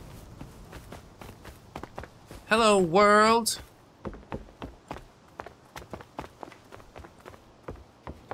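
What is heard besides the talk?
footsteps in the video game Rust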